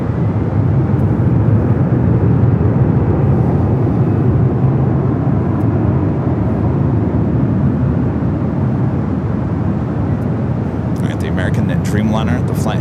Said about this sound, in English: Next arrival is Southwest Airlines flight 986 coming in from Kansas City, a 737-800